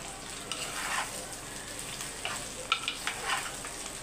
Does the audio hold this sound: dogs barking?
no